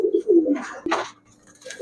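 High-flyer Giribaz pigeons coo at a pigeon shop, a few close, throaty rolling coos at the start followed by brief rustling and a faint later call.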